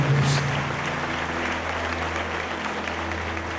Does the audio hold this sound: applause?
yes